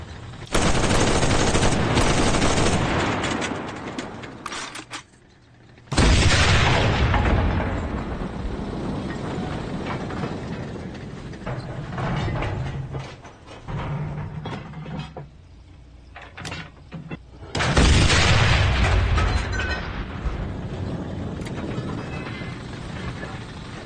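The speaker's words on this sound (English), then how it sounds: "As you can see, the gun performs pretty much how you would expect. It is a Panzer IV after all." A Panzer IV tank gun fires in the video game Enlisted with three loud, heavy blasts spaced several seconds apart, each trailing into a long rumbling decay, with softer mechanical clanks and reloading sounds in between.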